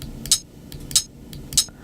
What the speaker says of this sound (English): And so does this closed hat.